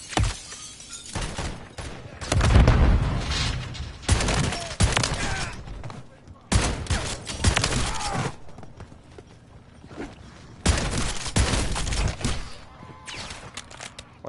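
A SPAS shotgun fires repeatedly in Modern Warfare 3, with loud, heavy blasts coming in separate bursts and brief quieter gaps between them.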